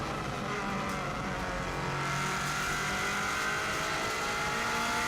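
Rally car with a fast-shifting six-speed gearbox accelerating uphill on a 2016 Isle of Man stage, its engine building power in a continuous, close, steadily rising drone with no talk.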